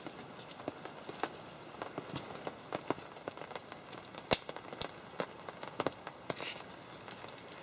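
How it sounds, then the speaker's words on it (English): Rain falls steadily in the woods during a multi-day canoe expedition, with scattered drops tapping and pattering close by over a soft, continuous wash and no voices. "it's been raining now for 2 solid days"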